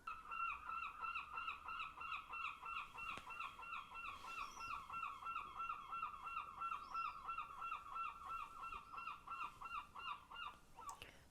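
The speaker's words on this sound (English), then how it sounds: "Listen to them noisy seagulls" A flock of gulls call repeatedly in a rapid, nasal, honking chorus, continuous and moderately distant, with no talking.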